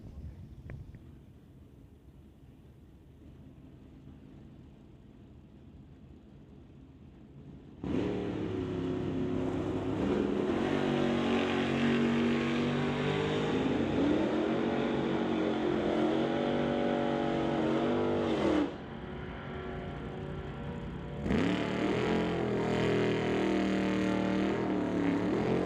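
An engine idles quietly in the distance, then a loud roar starts near the eight-second mark and holds with shifting pitch, drops briefly, and surges again. A Chevrolet Nova and a Corvette launch side by side in Pro Bracket drag racing at an NHRA event.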